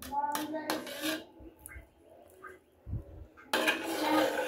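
Biryani being stirred in a cooking pot with ghee added, heard as metal utensil scrapes and clanks against the pot in uneven bursts, with quiet gaps between them and a louder rustling scrape at the end.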